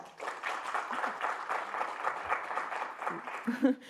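A French-speaking audience answers a question by applauding, a moderate, fairly quiet wave of clapping that rises and then trails off with a few scattered claps.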